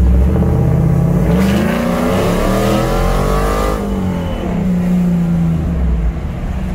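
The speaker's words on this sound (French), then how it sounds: "quand t'accélères, ça accélère comme un hot rod" A Ford Bronco 4x4 with its top off accelerates hard like a hot rod. Its engine note rises loud and close, then eases back and climbs again in a continuous roar, with no speech.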